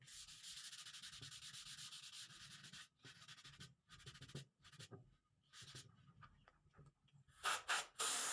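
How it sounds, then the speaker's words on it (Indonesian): Close, rhythmic rasping of 240-grit sandpaper rubbing back and forth over a primed plywood surface, with brief pauses between strokes and a few sharper scrapes near the end. "kita amplas media dengan amplas Duko nomor"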